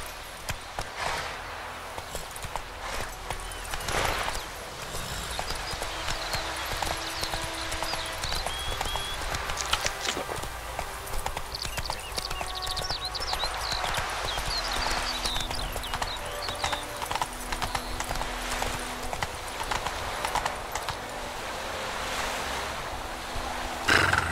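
Roach the horse galloping in The Witcher 3: steady, continuous clip-clop hoofbeats at a fast rhythm over ambient game outdoor sound, with no talking.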